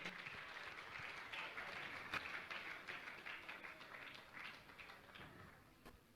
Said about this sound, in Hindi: सभी का जोरदार ताली बजाकर का सम्मान करें